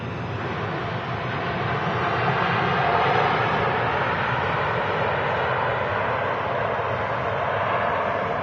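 An Emirates jet airliner, called King of the Skies, lands on runway 05 left at Manchester Airport, its engines a loud, sustained broadband roar that swells slightly and holds steady, heard from outside at moderate distance.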